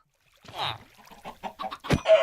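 Chickens cluck in the Minecraft video game, a run of short clucks and squawks ending in a louder burst, close and clear with no talk.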